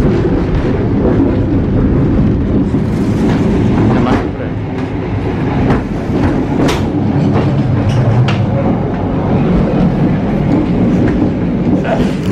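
A Jayakarta Premium passenger train runs from Jogja toward Purwokerto, its steady loud rumble and rattle filling the carriage, with sharp clacks of wheels over rail joints and faint voices underneath.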